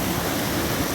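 Rushing water pouring over a small dam waterfall, a dense, uniform roar heard close up and continuous, with no voices.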